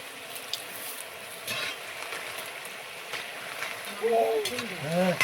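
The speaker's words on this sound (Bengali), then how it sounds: "অল্প আছে ভেজে নেবো।" Nimki, a savoury snack, frying in oil, giving a steady close sizzle, with a voice speaking briefly near the end.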